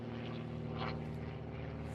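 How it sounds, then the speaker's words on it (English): A propeller airplane passes overhead at a distance, a steady low droning hum that holds for the whole stretch without a voice over it. "Plane going ahead."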